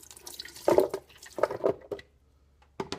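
Coconut water poured over coconut pieces in a VitaMix blender, arriving in several short splashing, trickling bursts separated by brief pauses, close and fairly quiet.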